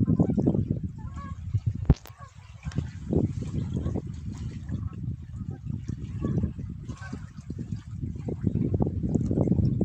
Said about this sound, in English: I think we have the geese.